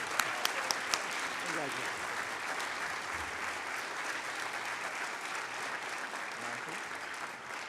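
Audience applause fills the room at a student leadership awards ceremony for a community service award winner, steady and sustained throughout with a few sharper claps near the start.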